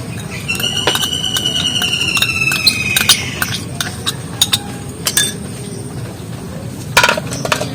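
Spoon clinking and scraping against a bowl while coconut oil is stirred into dark leaf juice, a steady run of close, bright metallic taps and rings over quiet background noise.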